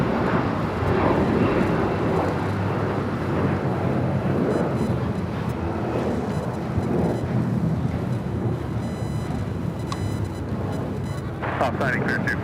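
Aircraft on runway 25 left at LAX, heard from a distance as a continuous low rumbling roar that fills the whole stretch, with a radio voice briefly audible.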